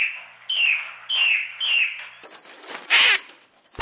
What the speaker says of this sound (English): Check out these parrots.